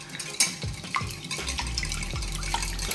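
Eggs and milk being beaten together in a mixing bowl for lumpia, a quick run of wet sloshing strokes with light knocks against the bowl, close and steady, with no one speaking.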